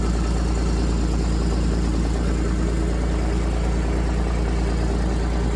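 A Kawasaki Mule Pro FXT utility vehicle idles in neutral after an alternator replacement. Its engine gives a steady, loud, close drone with an even low rumble and no changes in revs.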